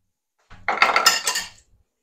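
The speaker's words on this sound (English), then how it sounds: "And we're just going to mix that in." A utensil scrapes and clinks against a bowl in a short burst while red food coloring is mixed into brownie batter, close and moderately loud, then stops.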